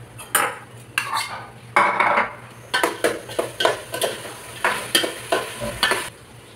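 Chicken liver and hotdog sliced pieces frying together in a pan, with repeated scraping and stirring strokes of a utensil against the metal over a steady sizzle, close and fairly loud, no talking.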